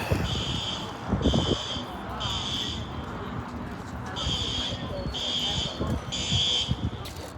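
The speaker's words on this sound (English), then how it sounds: "Fire alarm." Fire alarm sounding in repeated pulsed bursts, each about a second long with short gaps, loud and shrill over background chatter and footsteps as people move around.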